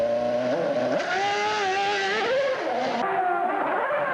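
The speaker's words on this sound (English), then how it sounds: "And some burnouts then in this F60 car from Olivia Beretta" A 2009 Ferrari F60 Formula One car performs burnouts at a racing event, its high-pitched engine revving loudly and rising and falling in pitch continuously for about four seconds.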